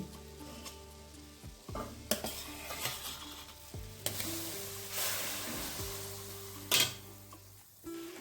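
Soft sandesh mixture being stirred into milk in a pan: repeated scraping and sloshing strokes with a low steady hum underneath and a sharper clink near the end.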